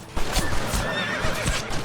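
A horse whinnies with a high, wavering neigh over the sound of hooves thudding close by, all within a couple of seconds, from Red Dead Redemption.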